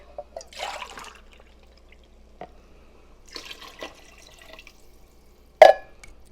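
Water poured from a can into a pot of chicken tortilla soup: two brief splashing pours, the first longer, then a sharp clink of metal near the end, close by with no talking.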